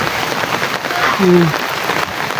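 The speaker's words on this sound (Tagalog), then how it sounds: "Umuulan." Steady patter of rain falling on a surface, with a brief voice rising above the hiss partway through.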